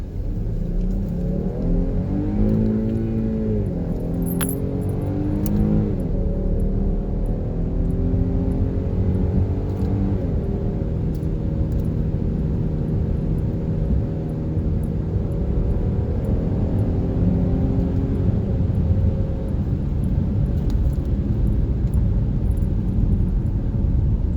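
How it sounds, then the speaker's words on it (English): A Dodge Durango V6 engine accelerates hard from a stop in manual mode, revving up through several gear shifts, loud and steady from inside the vehicle. "we're going to go through manual mode from a stop. And see how she sounds"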